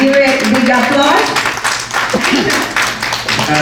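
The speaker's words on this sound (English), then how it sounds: "So please invite him and give a big applause." Audience applause at an evening event of a Vedic wellness university in Chicago, heard as dense, loud, continuous clapping close by, with voices murmuring underneath.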